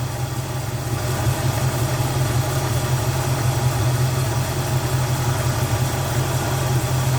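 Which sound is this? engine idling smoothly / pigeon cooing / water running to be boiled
engine idling smoothly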